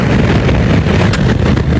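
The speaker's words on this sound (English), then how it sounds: "Really windy out here though" Strong gusting wind buffets the microphone at an open racetrack, a loud continuous low roar with no talking.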